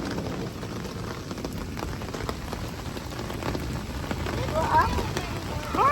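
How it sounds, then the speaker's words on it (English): Steady rain falls outside a house, a dense even patter of drops on surfaces that grows slightly louder toward the end, with faint voices in the background. "It's raining, isn't it?"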